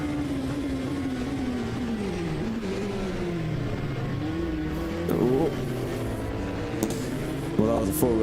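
Onboard race car engine at the Spa-Francorchamps 24 hour race, droning loudly through gear changes with rising and falling pitch sweeps, then sharper revving bursts toward the end, while a commentator talks over it.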